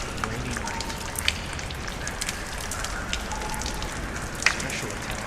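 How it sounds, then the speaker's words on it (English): Steady rain falls at night in a video game, a dense even patter with scattered sharper drops and small splashes throughout. "Rainy night."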